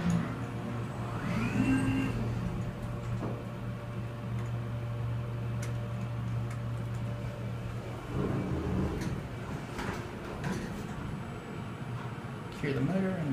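A ThyssenKrupp traction elevator motor runs with a steady low hum through the first half, then fades under people talking and ambient shuffling near the cab.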